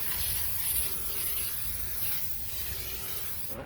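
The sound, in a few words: disinfectant spray being sprayed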